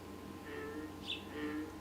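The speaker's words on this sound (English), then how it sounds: "You can hear a bird right here." Faint, brief bird calls in The Great Circle video game: a few thin chirping notes over quiet ambient background.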